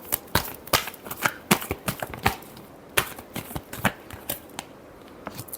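Tarot cards being shuffled, a rapid series of crisp riffling snaps and slaps in irregular bursts, close and clear with no voices.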